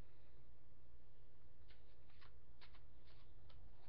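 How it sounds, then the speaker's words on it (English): Playing cards riffle and snap in a few quick bursts over a low background hum, each shuffle crisp and close. "now I'm just going to shuffle it in the deck"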